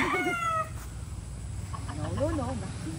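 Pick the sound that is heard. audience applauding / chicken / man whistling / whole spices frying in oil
chicken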